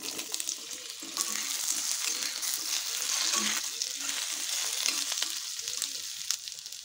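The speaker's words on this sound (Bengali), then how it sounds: "প্রথমে আমি আলুটা ভেজে নেব। দিচ্ছি আলুটা।" Potato pieces fry in hot oil in a wok, a steady close crackling sizzle with light stirring scrapes throughout, no talk.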